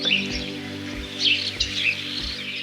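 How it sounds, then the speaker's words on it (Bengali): Wild forest birds in Chapramari Wildlife Sanctuary in the Dooars, Alipurduar, give short high chirps and calls in scattered bursts over a steady tonal background. "শোনা যাচ্ছে পাতার ফাঁকে হাওয়ার শব্দ"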